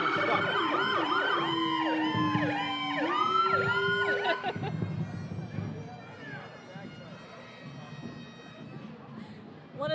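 Fire apparatus sirens wail and sweep at a firemen's parade in the Village of Mamaroneck, loud and overlapping for several seconds, then fading into crowd noise and talk.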